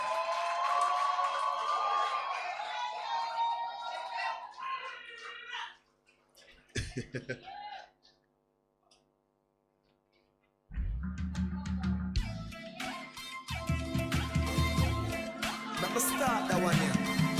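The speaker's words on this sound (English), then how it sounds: "give class of 2025 a resounding round of applause" Graduation ceremony crowd at a school of sustainable agriculture and culinary art cheering the class of 2025: music at first, a near-silent gap, then loud sustained applause and cheering mixed with music.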